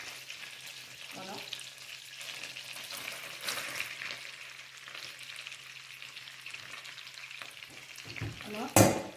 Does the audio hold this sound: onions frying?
yes